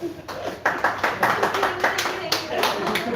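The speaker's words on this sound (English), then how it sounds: "So round of applause for you that you're standing in front of all of us and talking." Audience applause in a business and banking consultancy live session, a short burst of uneven hand claps from a small group lasting a few seconds.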